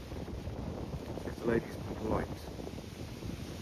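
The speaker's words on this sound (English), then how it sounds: "It's way too windy." Heavy gusts hammer the microphone in an exposed outdoor spot with no shelter, a constant rumbling buffet beneath a man's brief spoken remark.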